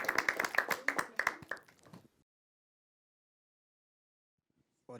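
A lecture audience claps after a philosophy class, a couple of seconds of close, fairly loud hand claps that fade into silence, with a faint voice starting at the end.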